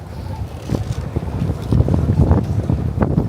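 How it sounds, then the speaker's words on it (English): Gusty wind rushes and buffets the microphone on a New York City street in Kips Bay in January, a loud close roar rising and falling in strength. "The wind is picking up now."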